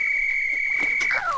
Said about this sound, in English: Jimmy, can you please take it easy on the whistle?